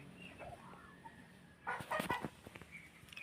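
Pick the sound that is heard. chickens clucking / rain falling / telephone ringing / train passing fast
chickens clucking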